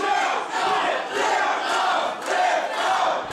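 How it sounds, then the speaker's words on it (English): An AWWL wrestling crowd roars for the favorite, Whipdog Johnson, with loud, close cheering that swells and dips in rhythmic chanting surges about every second. "And the crowd firmly behind the favorite."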